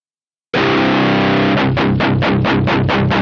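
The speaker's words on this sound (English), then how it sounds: "that seems to add a little bit of distortion as well as a little bit of different tone" A distorted guitar tone runs through the Black Rooster Audio Cypress TT-15 amp sim, starting with a loud sustained chord, then a rhythmic run of six or so choppy chugged strums.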